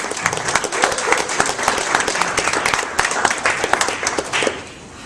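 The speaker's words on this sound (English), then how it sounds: "another round of applause for all the participants today" Audience applause for the participants of an NAACP debate on affirmative action, a steady, dense wash of many hands clapping throughout, fading slightly at the very end.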